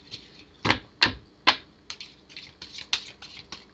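Tarot cards are shuffled in a quick series of crisp, snappy riffles and flicks, close and fairly loud, with no voices.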